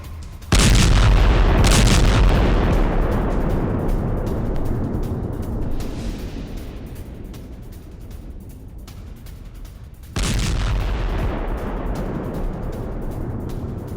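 Heavy bomb blasts from IDF fighter jet strikes on Hezbollah sites, two loud booms roughly eight seconds apart, each opening with a sharp broadband crack and then a long rumbling decay.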